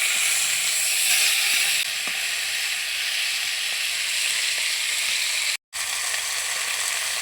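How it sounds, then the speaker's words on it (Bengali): Tilapia pieces frying in hot oil and being turned, producing a continuous close hiss and sizzle that is a little louder at first, then settles, broken by one short pause and some faint scraping. "মাছটা উল্টে পাল্টে লাল লাল করে ভেজে নিতে হবে"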